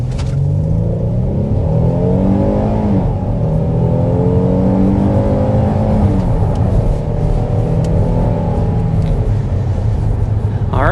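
A 2025 Kia Telluride with its 3.8-liter V6 accelerates with a strong, steady growl that climbs in pitch through the gears, loud and continuous for about eleven seconds.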